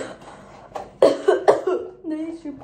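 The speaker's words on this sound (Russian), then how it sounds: "Очень много вырезала моментов, где я кашляю." A woman coughs several times in quick succession, harsh and close, with some throat clearing between the bursts.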